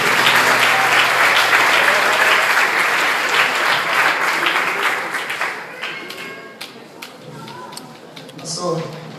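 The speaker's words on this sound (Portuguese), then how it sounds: "Vamos aplaudir o Senhor pela vida dele." Congregation applause in a church, loud sustained clapping from a crowd that gradually thins into scattered claps over several seconds.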